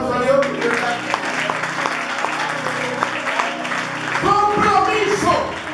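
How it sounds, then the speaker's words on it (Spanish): Church congregation applauding during a sermon, a loud wash of clapping with voices and tonal sounds underneath, swelling again near the end. "Denle un aplauso a Dios."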